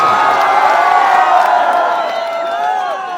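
A large outdoor crowd at a Bhojpuri stage show in Sahibganj, Jharkhand cheers and whoops loudly, a sustained roaring mass of voices with scattered clapping and faint shouts blended in.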